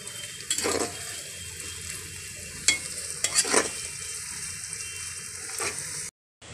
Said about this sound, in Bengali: পেঁয়াজটাকে আমার একটু ভালো করে ভাজতে হবে এবার